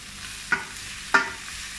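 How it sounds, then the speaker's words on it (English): Onions browning and softening in a frying pan give a low steady sizzle, with two distinct scraping stirs about half a second apart. "my onions are very slightly browning and beginning to soften. Just keep stirring those"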